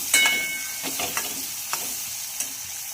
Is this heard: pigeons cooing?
no